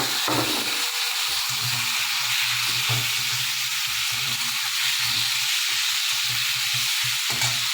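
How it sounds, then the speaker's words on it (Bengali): Chopped tomato goes into potatoes frying in a pan, giving a loud, dense, continuous hiss and sizzle, with soft stirring knocks underneath. "এই যে একটা টমেটো কেটে রেখেছিলাম এটা আমি এই আলুটার মধ্যে দিয়ে দিলাম"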